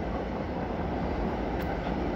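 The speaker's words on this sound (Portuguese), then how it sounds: "são trens que carregam cimento em a granel" Freight train of wagons carrying bulk cement rolling past close by, a continuous loud rumble of wheels and cars with a brief high squeal partway through.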